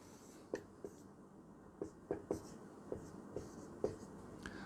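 Writing on a board during a Class 10 geometry lesson: a series of short, crisp scratching strokes at irregular intervals, close and fairly quiet, with no talking.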